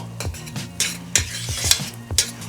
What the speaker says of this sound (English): Let's give this a stir. So sticking just a little bit.